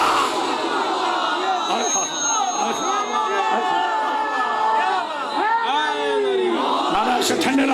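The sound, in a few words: crowd shouting a religious slogan (nara) at a majlis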